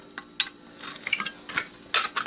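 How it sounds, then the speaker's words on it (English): Metal scissors snip through the aluminum of an old Xbox power brick, giving a few sharp, close metallic clicks and crunches spaced irregularly over a couple of seconds, with no talking. "scissors for metal"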